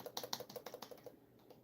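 Rapid key presses on a computer keyboard, a dozen or so crisp clicks in an uneven rhythm that trail off near the end, close and fairly quiet with no talking.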